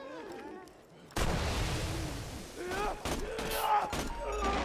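Gunfire from a gun in Borderlands 2, a loud blast opening a dense stretch of shots and impacts with a few sharper cracks later, faint voice and game sounds underneath.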